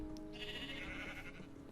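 A Minecraft sheep lets out a single drawn-out bleat. It is faint and quiet, with a soft game background underneath.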